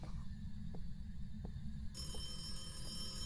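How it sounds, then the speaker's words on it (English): A telephone rings in the Phasmophobia horror game, a few faint, spaced electronic ring pulses over a low steady hum, becoming a brighter, tonal ring in the second half. "Got a phone call"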